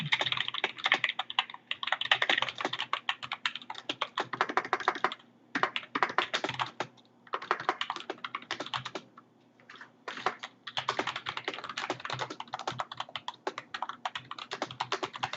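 Rapid typing on a computer keyboard, close and steady, with bursts of quick keystrokes broken by brief pauses, no voices.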